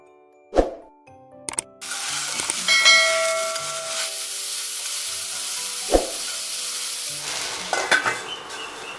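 Okra frying in a pan with turmeric, salt, cumin and coriander powder gives a steady sizzle and hiss, broken by a few sharp clanks and scrapes of a spoon stirring.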